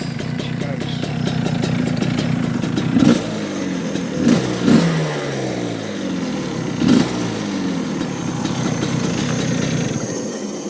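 A go-kart engine runs steadily at close range after being refuelled and started, with a loud, buzzing two-stroke drone and a few brief throttle blips along the way.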